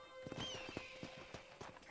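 A horse ridden in the video game Red Dead Redemption gives steady, rhythmic clip-clop hoofbeats at a gentle pace, fairly quiet, with faint background tones.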